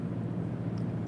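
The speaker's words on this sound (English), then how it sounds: "That's just the engine running." Steady low engine rumble of a GMC Yukon Denali heard from inside the cabin while driving, a continuous broadband drone with no speech over it.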